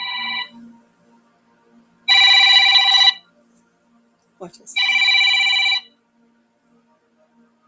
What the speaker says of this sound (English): Alas, my phone rings.